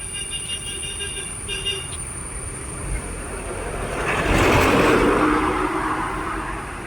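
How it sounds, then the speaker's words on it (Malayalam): A bus drives past on a service road beside the NH66 highway. Steady traffic rumble swells into a louder whooshing pass midway, with faint horn toots early on. "ഒരു ബസ് വരുന്നുണ്ട് നമുക്ക് അതിൻ്റെ കാഴ്ച ഒന്ന് കാണാം"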